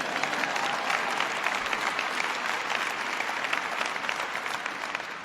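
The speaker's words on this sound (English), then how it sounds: "Mark Udall's not here, but give him a round of applause anyway." A large crowd at a presidential speech on the American Recovery and Reinvestment Act applauds for Senator Mark Udall, producing a steady, even wash of clapping with no pauses.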